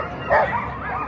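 Sled dogs, huskies at a race start, give a brief excited yip and whine, close by and moderately loud over steady outdoor crowd noise.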